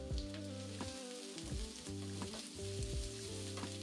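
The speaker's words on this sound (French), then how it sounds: "Dans une sauteuse à feu moyen avec une cuillère à soupe d'huile, faire revenir l'oignon une vingtaine de secondes" Onion sautéing in a tablespoon of oil in a sauté pan over medium heat, a steady close sizzle behind soft background music, no talking.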